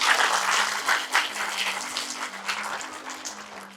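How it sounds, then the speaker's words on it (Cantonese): Audience applause fills a live year-end stand-up comedy show in a theatre hall, with dense, steady clapping rising and falling in waves over a faint low hum. "大家繼續俾啲掌聲佢哋。"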